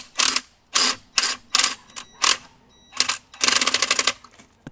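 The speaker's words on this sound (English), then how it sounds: "The impact gun will stop it right there." An impact gun drives in a coilover bolt on a Mercedes-Benz front suspension: a series of short, loud, close rattling bursts with brief pauses between them, ending in a longer hammering run that then stops.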